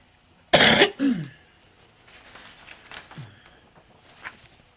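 A woman recovering from pneumonia coughs hard and close, one loud burst followed by a second, weaker cough, then quieter throat noises and breathing trail off.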